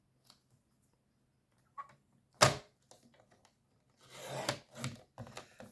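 A single card being cut in two, a quiet crisp snip followed by soft rustling and rubbing of paper, faint and sparse against near silence.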